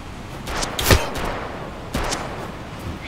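Enemy gunfire in the Road to Vostok video game, set in a winter landscape: a few sharp, fairly close shots crack out. Between them comes a brief burst of reports, with quieter echoing shots trailing after.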